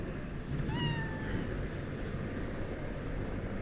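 A hairless Sphynx cat being petted in the video game Cyberpunk 2077 gives a single short meow, with wavering pitch, over a steady low game background hum.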